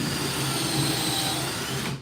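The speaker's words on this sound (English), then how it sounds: "Just gonna be drilling these holes all day long." A power drill bores holes into a wooden table board, giving a steady, loud, continuous whine that holds for about two seconds and then cuts off.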